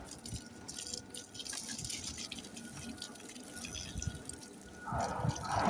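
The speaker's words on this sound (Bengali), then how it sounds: "দাঁড়ান, আমার গাছটা একটু জল দিয়ে দিই।" Water being poured onto a tulsi plant, with soft splashing and dripping at close range that grows louder and fuller near the end.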